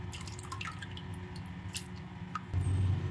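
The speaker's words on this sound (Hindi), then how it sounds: "और वॉश भी हमें बिल्कुल हल्के हाथों से करना है" Shredded potato sticks for lachha namkeen are gently rinsed in a bowl of water, with soft dripping and squishy wet handling sounds close by, then a louder low swish of water near the end.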